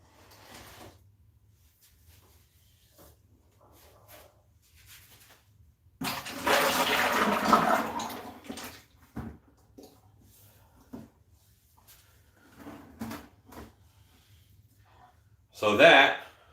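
Liquid pours out of a mold for a Gravedigger figure into a bucket, a splashing rush of a couple of seconds with a few weaker gushes after it. Someone talks in between.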